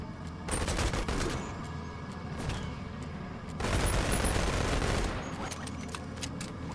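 Rapid automatic fire from two SMGs in the VR shooter Boneworks, loud dense bursts that run almost continuously, pausing briefly near the middle before another heavy volley.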